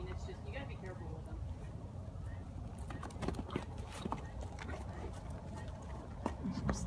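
A fearful mare trots during a training evaluation, her hooves clip-clopping in a steady, even rhythm on the ground. The hoofbeats are moderately faint against a quiet background.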